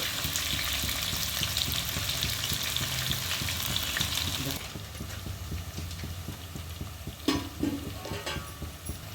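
Sliced onions fry in hot oil with bay leaf, cinnamon, cardamom and cloves for mutton pulao, giving a steady, dense sizzle with occasional stirring scrapes that eases slightly partway through.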